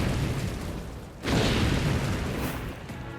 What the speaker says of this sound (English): An explosion occurs right next to me.